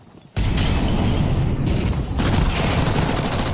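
Flashbang grenades going off in a Counter-Strike match: after a brief quiet moment, a loud blast opens into dense, continuous roaring gunfire and explosions that hold at full level to the end.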